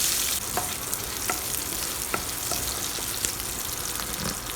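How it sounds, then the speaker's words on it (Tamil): Small onions sauté in oil for a brinjal kulambu, giving a dense, continuous close sizzle broken by scattered spoon scrapes and taps. "வெங்காயம் நல்லா வதங்கட்டும்."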